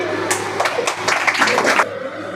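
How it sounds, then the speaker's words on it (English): Audience at a school speech competition for an August 15 program claps briefly to welcome a speaker, a scatter of close hand claps swelling for about a second and a half over background voices before fading out. "Let's welcome her to big round applause."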